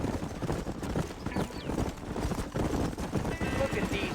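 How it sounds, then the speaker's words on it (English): Horses' hooves clip-clop in a Red Dead Redemption ranch scene, a rapid, uneven patter of hoofbeats blended with game ambience and rumbling noise, steady and moderately close throughout. "look at these here horses"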